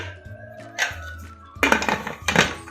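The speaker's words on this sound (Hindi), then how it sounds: "अब मैं इसमें लगा रही हूँ प्रेशर कुकर का ढक्कन" A pressure cooker lid is fitted on in a kitchen, giving a few metallic clanks and clattering knocks of the lid against the pot, with brief pauses between them and no one speaking.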